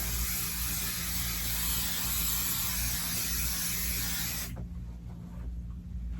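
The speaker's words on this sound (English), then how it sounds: "I'm gonna lift it up, spray." Basting adhesive sprays from a can onto a quilt hung on a wall, a steady close hiss lasting about four and a half seconds before cutting off into quiet room tone.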